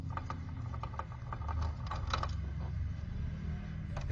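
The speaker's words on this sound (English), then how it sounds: "we have to remove the screws that are underneath" Screws being removed from the underside of a PS5 Slim console, faint light clicks and small metallic scrapes of a screwdriver over a steady low hum, close and without talking.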